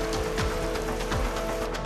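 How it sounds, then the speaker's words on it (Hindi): Steady rain falling on and off in Meerut during Cyclone Tauktae, a dense continuous patter of drops at even loudness throughout. "लगातार रुक रुक करके बारिश हो रही है"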